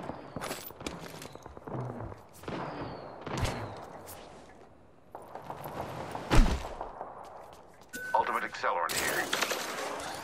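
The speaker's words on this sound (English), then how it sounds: "Sniper. Shooting in the tunnel." Gunfire echoes in a tunnel in a first-person shooter, heard as irregular bursts of shots mixed with footsteps and clatter, some loud sharp cracks and a busier stretch of shooting at the end.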